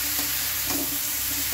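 Potato and eggplant chunks sizzle steadily in hot oil with spices, a continuous close frying hiss with a faint stirring scrape partway through and no voices.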